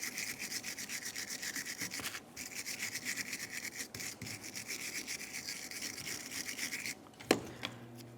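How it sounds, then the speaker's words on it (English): A wire brush scrubs rapidly back and forth on the caliper bracket mating surface of a 1994-1997 Honda Accord front brake, a close, steady bristly rasp with brief pauses and a clank near the end. "Use a wire brush or some sandpaper and clean up the mating surface."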